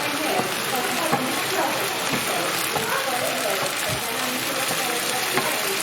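Garlic ginger paste is stirred into onions frying in a pan for beef madras. Moderate sizzling runs throughout with the scrape and clatter of stirring.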